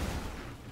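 Explosions and crackling blasts in the action video game Enshrouded, a dense rumbling burst of low booms that fades slightly over a short moment, with no talking.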